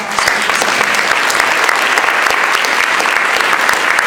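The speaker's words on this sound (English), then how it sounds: "How about a nice round of applause?" Audience at a nurse leader panel summit breaking into loud, dense, sustained applause, many hands clapping close and evenly for several seconds.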